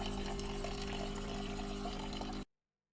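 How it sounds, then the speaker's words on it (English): A $160 Wirsh Home Barista Plus espresso machine dispenses hot water with a steady hiss and low pump hum, close and constant, stopping abruptly near the end. "It can also dispense hot water, adding to its versatility."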